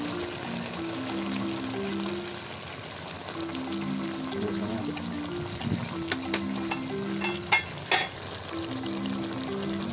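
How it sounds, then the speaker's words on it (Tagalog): Chili peppers and vinegar go into a simmering pot of papaya stew, bringing soft bubbling, stirring and pouring sounds with a few brief clatters, over a faint repeating background tune. "Maglalagay pa tayo. Siling panigang. Suka."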